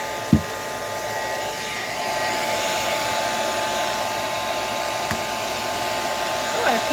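A hair dryer blows steadily on sprayed, decoupaged pages of a mixed-media altered book, a continuous close airy whir with a couple of faint knocks and no talking.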